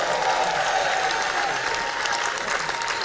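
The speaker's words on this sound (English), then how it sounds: "So a round of applause for yourselves in the red chair." Sustained crowd applause at a music event, moderately distant and even, with dense clapping from an audience and no talking over it.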